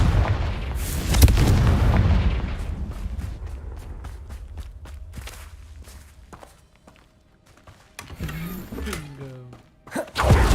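Fiery Confringo spell blasts in the game Hogwarts Legacy, several sharp booming bursts landing in quick succession amid crackling combat effects, fading to quieter rumbles before a last loud blast at the end.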